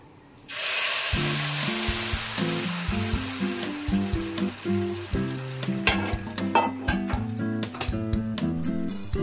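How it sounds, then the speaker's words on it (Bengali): Hot water is poured into a pot of sweetened pulao, setting off a loud, steady hiss and sizzle that bursts in suddenly and continues under a melodic music track. "এরপরে আমি এই গরম জলটা পুরো ঢেলে দেবো"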